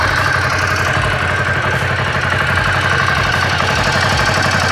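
A 2021 air-cooled Ducati Scrambler Desert Sled motorcycle idling close by, its engine loping with a steady, even low thrum and no talk over it.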